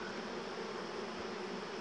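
Dense, steady buzzing of a mass of honeybees crowding a hive frame board during a transfer into a hive, a continuous close drone with no talk.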